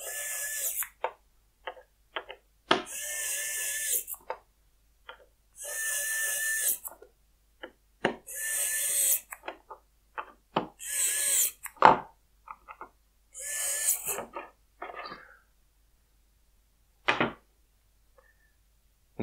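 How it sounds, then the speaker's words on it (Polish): A HYCHIKA HYQ2001 cordless precision screwdriver runs in several short bursts separated by pauses, each whir starting and stopping abruptly, with a few small clicks and handling knocks between them; close and fairly quiet, with no talking. "Naprawdę fajny, fajnie działający wkrętak."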